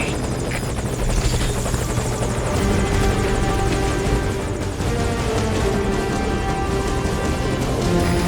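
Helicopter hovering at a landing zone in Metal Gear Solid V: Ground Zeroes, a loud, steady rotor thrum and engine whine running continuously without pause.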